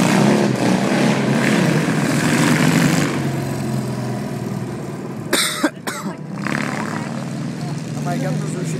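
A dune buggy engine drones steadily up close, a loud continuous rumble with a brief cough-like burst midway, while people talk over it.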